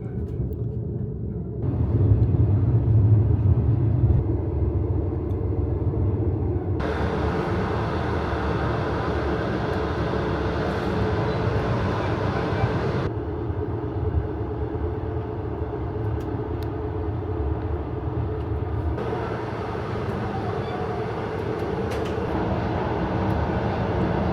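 A steady low rumble of the K23 Beijing–Ulaanbaatar passenger train running along the Beijing-Baotou Railway toward Zhangjiakou, continuous and fairly loud throughout, with no voices.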